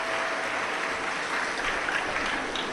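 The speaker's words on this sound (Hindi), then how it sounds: "एक बार जोरदार ताली बजाकर इन सभी यजमान परिवार के लिए साधु का।" A large audience at a Shiv Mahapuran religious discourse claps loudly for host families, a dense, continuous wash of applause with no talking.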